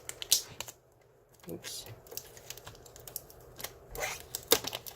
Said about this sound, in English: Go ahead and tear off this back part here